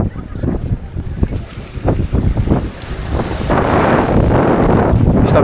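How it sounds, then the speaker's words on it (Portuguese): A strong south wind blows at Canajurê beach, buffeting the microphone in loud, uneven gusts that build into a constant roar, with surf underneath. "Está ventando forte, né? Um vento sul."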